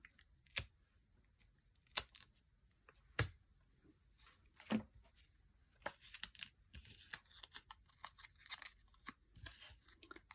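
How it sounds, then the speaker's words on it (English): Backing paper is peeled off craft dimensionals at close range, a faint sequence of soft crinkles, sharp little ticks and brief tearing rustles scattered irregularly over quiet. "And then I'm going to peel the paper."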